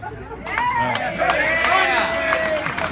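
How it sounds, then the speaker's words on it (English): Sparse, half-hearted clapping from an audience at a roofing company's anniversary speech, scattered hand claps mixed with crowd chatter and a voice talking over it. "A little bit of a clap for Pete"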